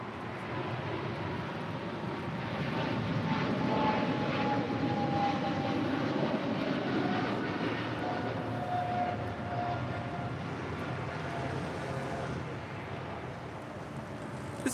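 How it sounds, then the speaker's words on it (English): An American Airlines Boeing 777-300ER heavy departs LAX for London Heathrow with a sustained, loud jet engine roar and a rising whine that holds steady throughout, slightly fading near the end, with no voices. "This is American Airlines 136 Heavy departing to London Heathrow on a 777-300ER"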